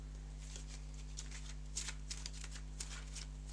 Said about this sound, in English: we'll give them a shuffle